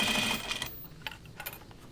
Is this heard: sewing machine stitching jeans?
yes